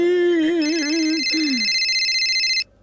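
A phone ringtone plays indoors in a house in an animated cartoon, starting with a wavering melodic tone and shifting into a bright, steady electronic ring, loud and close, with no talking.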